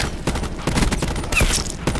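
Rapid automatic gunfire in the Call of Duty: Black Ops 4 Blackout multiplayer mode, loud close bursts of shots in quick succession filling the whole moment.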